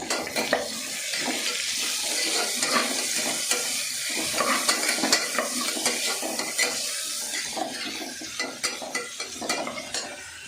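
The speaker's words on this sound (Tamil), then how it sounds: "ஆனியன் போட்டதுக்கப்புறம் ஹை ஃப்ளேமில் வச்சு நல்லா வதக்க ஆரம்பிச்சிட்டேன்." Onions sauté over high flame in hot oil and ghee for coconut milk rice, a steady broadband sizzle with scattered stirring clatters and spatula scrapes throughout, close and continuous.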